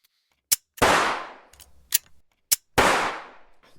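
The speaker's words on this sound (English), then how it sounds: "3 gunshots echo." Three sharp gunshots ring out in a row, each followed by a long decaying echo, loud and alone with no talk.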